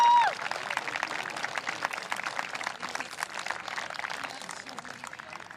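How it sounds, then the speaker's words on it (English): Steady crowd applause at a boys' varsity soccer game, dense clapping that carries on throughout, fairly loud and even, with a brief tone at the start. "Join me for one more round of applause for this tremendous turnout and support"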